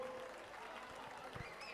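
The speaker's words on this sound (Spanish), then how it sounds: "Un forte aplauso." Faint applause rises from a crowd at an Entroido carnival gathering, brief and distant.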